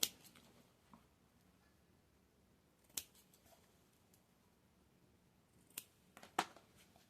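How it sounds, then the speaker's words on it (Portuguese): Scissors snip the corners of sewn patchwork fabric for a small scrap-fabric and tulle zip pouch, a few faint, separate clicks near 3, 6 and 6.4 seconds in an otherwise quiet room. "Antes de eu desvirar, eu vou cortar os cantinhos para ficar os biquinhos bem certinho"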